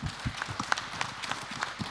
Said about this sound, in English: I would like to invite all the audience to give a warmful applause for our panelists for their wonderful sharing.